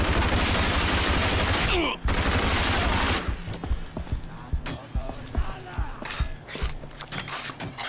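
Video game gunfire: a dense, loud barrage of shots runs continuously for about two seconds, then sparser separate cracks and pops follow with a lower background and some voice.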